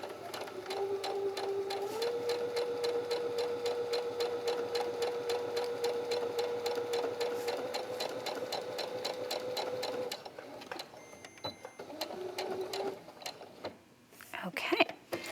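A sewing machine runs in a steady straight seam along the center back of a collar, a close, even mechanical whir lasting about ten seconds, then a short second burst after a brief pause.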